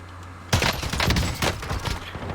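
SA87 light machine gun firing in Call of Duty Warzone, a burst of rapid automatic shots starting abruptly after a quiet half-second and continuing loud and close with uneven rhythm.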